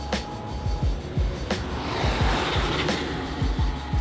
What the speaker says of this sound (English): that car's wow loud